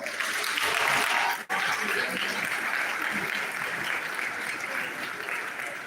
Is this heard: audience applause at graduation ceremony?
yes